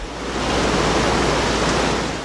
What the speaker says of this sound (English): Is there a hidden doorway behind the waterfall?